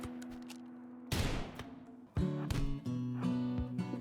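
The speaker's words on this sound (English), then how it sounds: "But apparently more damage was done by Rosalina with the gun" Gunfire in the video game RimWorld: a burst of shots at about one second, then several sharp cracks over droning game music, loud and fairly close.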